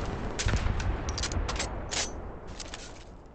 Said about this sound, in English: Trying to lead her with the rockets.